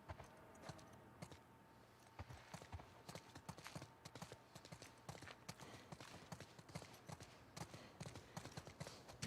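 Steady horse hooves clip-clopping throughout, a continuous busy rhythm of hoof strikes with no talking over it, in the video game The Last of Us Part 2.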